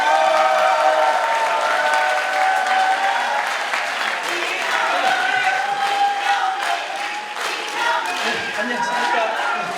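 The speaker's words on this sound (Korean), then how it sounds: "모두 큰 박수로 맞아주시기 바랍니다." An audience in the main conference hall of the National Assembly in Seoul welcomes a guest lecturer with sustained, full applause that stays loud and steady, with some murmuring voices underneath.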